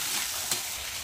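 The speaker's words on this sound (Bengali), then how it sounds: "কচু আর আলুটা একটু লাল লাল করে ভেজে নেব" Pieces of taro and potato fry in a pan, giving a brief, continuous sizzling hiss with one small crackle in the middle.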